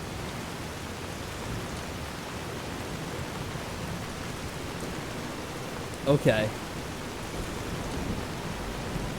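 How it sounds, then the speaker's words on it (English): Heavy rainstorm in the video game Fallout: A Tale of Two Wastelands, a steady broadband hiss that fills the whole clip, with a voice speaking briefly partway through. "this is a really bad rainstorm we're having"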